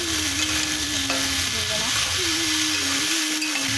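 Tengra fish with salt and turmeric fries in a pan, a loud, continuous sizzle under a low steady hum, with voices talking over it.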